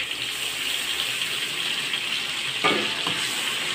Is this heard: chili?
yes